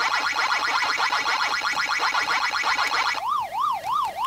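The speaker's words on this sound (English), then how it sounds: "The alarms!" Alarm siren from the Pac-Man video game, a loud electronic alarm that pulses rapidly, then switches to a slower wailing up-and-down siren for the last second, heard alone.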